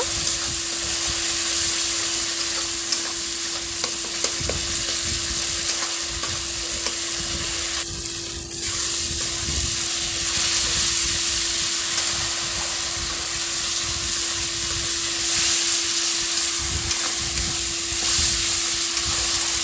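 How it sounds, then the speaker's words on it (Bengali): Spice paste with turmeric frying in a pan for a papaya and koi fish curry, a constant loud crackling sizzle stirred continuously, with a steady hum running underneath. "ভালো করে মশলাটা কষিয়ে নেব"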